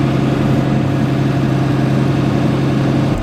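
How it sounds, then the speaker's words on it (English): A farm tractor's engine runs at a steady, loud, continuous drone with a low rumbling hum throughout, and no voices are heard. "I'll drive the first load here, that way she can learn on this tractor"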